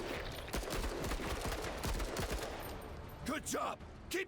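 Rapid bursts of gunfire from the tactical game Menace, a dense fusillade of repeated shots firing continuously and loudly, with a few sharper whooshing blasts near the end.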